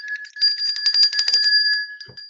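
A bright bell rings in a rapid trill of repeated strikes, close and loud, ending with a short low knock.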